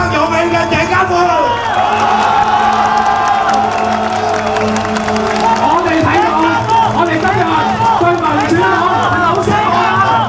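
Rally crowd in Hong Kong meeting Cheng Kar-foo and Wong Yuk-man after a political reform protest, cheering and applauding loudly and steadily throughout, with shouts and voices layered over the din.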